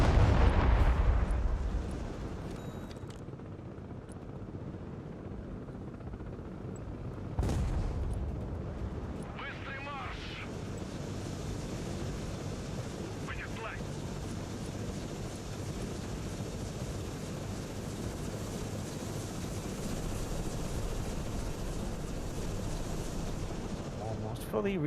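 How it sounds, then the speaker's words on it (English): Battle sounds from the video game Broken Arrow: a heavy explosion opens, then artillery booms, gunfire and sharp blasts recur over a low rumbling din, with a few distinct impacts rising out of the mix. "Ragnarok says, the gunfire is glorious."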